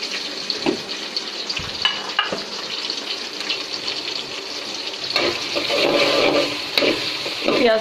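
Onions go into hot oil in a pot for chicken biryani, giving a broad steady sizzle with faint stirring clinks. The frying swells louder in the last few seconds.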